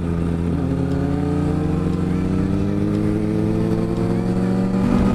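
A 2008 Kawasaki ZX6R sport motorcycle revs in second gear toward 8,000–10,000 rpm. Its engine tone is loud and close and holds steady with a slight rise, and a voice is faintly heard beneath it.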